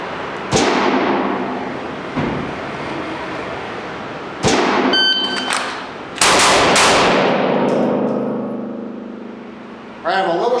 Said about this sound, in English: So these are my first shots of the day.